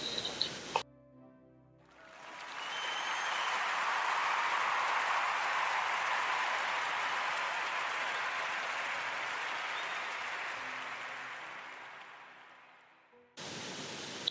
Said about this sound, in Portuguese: eu quero pedir a toda a gente uma salva de palmas